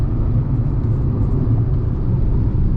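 A Tata three-cylinder car cruises on a highway at around 100, heard from inside as a steady low engine and road rumble with constant tire noise and no talking.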